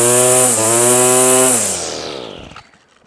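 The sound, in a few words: petrol line trimmer engine running after carburetor replacement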